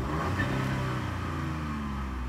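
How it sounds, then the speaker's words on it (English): A 2024 Chevy Trax RS with a 1.2-litre turbo three-cylinder engine revs briefly while parked, a steady mid-pitched engine drone that swells slightly and holds, heard from nearby without talk. "we'll give it a quick little rev"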